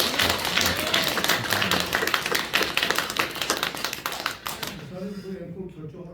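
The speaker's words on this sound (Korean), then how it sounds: "우리 격려의 박수 드리도록 하겠습니다" A church congregation claps in encouragement, with crisp individual claps forming brisk applause that fades out near the end as a voice begins talking over the final seconds.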